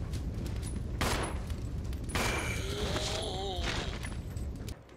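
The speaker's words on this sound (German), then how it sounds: "Ich schieß noch mal." Gunfire from a first-person shooter game: a few sharp shots in a noisy firefight, with a loud burst near the second mark and a second around two seconds, followed by ringing tones and someone speaking over the game sound.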